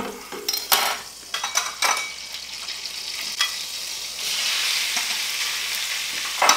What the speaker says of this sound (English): I'm going to add 1 tablespoon of butter to this, and then I'm going to start adding in the shrimp